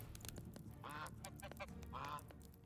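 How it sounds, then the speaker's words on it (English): Two honking goose calls ring out in Medieval Dynasty, each a short burst of nasal cries, with a steady low game hum running beneath them. "gonna go strangle your goose"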